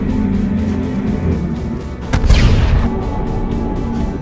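A phosphorus grenade detonates in a film scene, a single loud booming blast about halfway through that rises out of a steady rumbling background and fades over a second.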